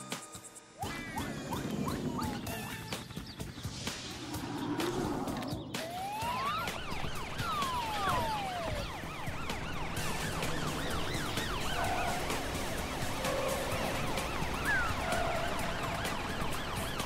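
A cartoon police patrol car siren wails in repeated rising and falling sweeps as it arrives, loud and continuous over a busy background of engine and traffic-like noise, with no talking.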